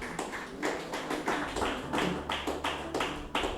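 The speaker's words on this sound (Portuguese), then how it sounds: "E bate as palmas bem forte para Jesus" A church congregation clapping hands loudly for Jesus, dense steady applause in a regular rhythmic beat, close and full, continuing throughout without talk.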